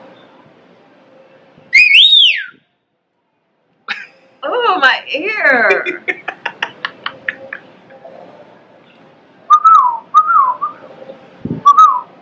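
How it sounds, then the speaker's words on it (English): A person whistles sharp rising and falling notes in bursts, including a rapid warbling run, with a few spoken words and a throaty noise between. "the only way I know how to whistle like this"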